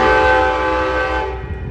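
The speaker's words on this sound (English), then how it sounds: "139 got a good P42 horn sound." An Amtrak P42 locomotive leading the Coast Starlight sounds its horn in Oakland, California: one loud, sustained multi-tone blast, close up, that fades slightly at the end.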